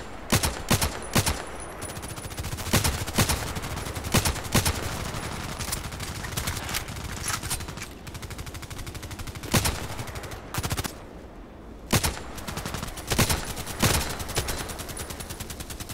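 Gunfire in the shooter game Contract Wars, with repeated sharp single shots and short bursts at close range, loud and spaced irregularly across the stretch with no talk.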